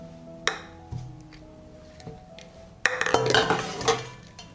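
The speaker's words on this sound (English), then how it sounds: "And I put the jars in the pot." Glass jars set down into a cooking pot lined with a cloth on the bottom, giving a few distinct clinks and knocks, then a louder cluster of clattering glass-on-metal contact near the end, close up with no talk.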